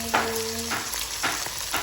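Chicken for mustard chicken sizzles steadily in a hot pot, a constant crackling hiss with a few brief clinks from the pan.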